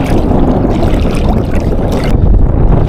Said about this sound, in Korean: 바람이 갑자기 불어대네